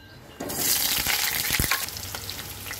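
Pointed gourd pieces drop into hot oil in a wok and set off a sudden, loud, steady sizzle. A few spoon scrapes and pops sound over the frying.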